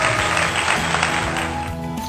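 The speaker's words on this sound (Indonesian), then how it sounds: "Tepuk tangan dulu untuk temannya." A classroom applauds a student in a brief, dense patter of clapping hands with a faint tonal hum underneath.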